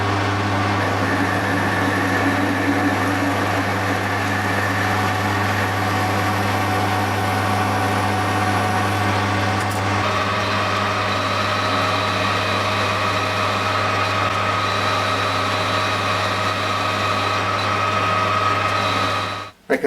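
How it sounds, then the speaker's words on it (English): Steady mechanical whine of a lathe drilling metal, running continuously, a constant low hum with higher tonal components, no voices, ending abruptly. "let's get drilling."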